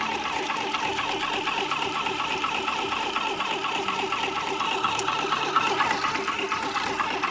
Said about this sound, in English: I'm going to turn on the motor and begin the jigging action